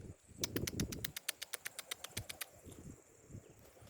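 Pigeons landing with a fast run of sharp wing claps, a flurry of about fifteen flaps that then fades into quiet outdoor background.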